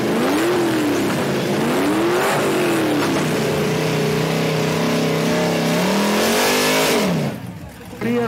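A six-cylinder drag race car engine at a drag strip revs loudly and repeatedly, the pitch rising and falling in sustained pulls before cutting off near the end, with people talking faintly underneath.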